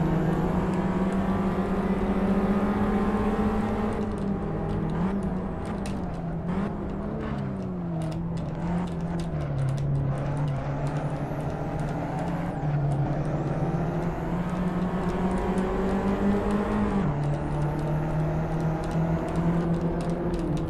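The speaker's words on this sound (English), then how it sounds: "You guys hear the turbo whistling?" A turbocharged car engine in the racing game Assetto Corsa drones steadily, its pitch rising and falling with the revs, and a thin turbo whistle rides above it. No one speaks.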